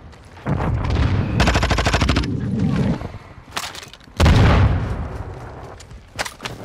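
Video game gunfire in bursts: a rapid automatic volley, a pause, then a loud heavy burst and a final short rattle, close and punchy, with a player's voice calling out between shots.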